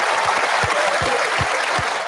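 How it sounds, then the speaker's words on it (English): Loud, sustained applause from an audience at a political event, a dense wash of clapping that fills the whole stretch without letting up. "so you hear very loud applause"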